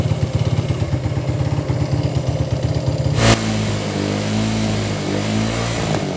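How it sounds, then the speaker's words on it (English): Small 125cc motorbike engine running close by with a rapid, chugging putter, then a sharp clack as the rhythm breaks and the idle turns rough and uneven as it begins to stall. "So I'm going to let it run now and then see what the light does when it starts having a problem or when it starts to stall."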